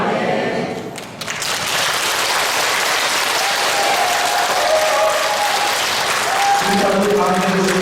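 A Catholic church congregation at a Holy Spirit rally in the Gwangju archdiocese breaks into loud, sustained applause that fills the hall steadily for several seconds, with a voice and faint tonal sounds carrying faintly underneath.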